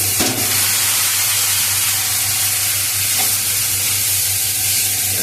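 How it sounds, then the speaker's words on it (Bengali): Pasta sizzles loudly and continuously as it fries in a hot pan, with a bright steady hiss and occasional stirring scrapes. "পাস্তাটা প্রায় ভাজা হয়ে এসছে।"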